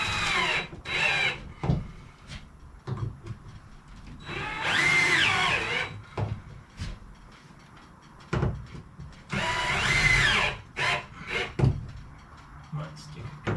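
A power drill drives screws into a bracket for a trimmer mount on an enclosed trailer: two long whirring bursts, with shorter quieter spurts, knocks and clatter between them, close by.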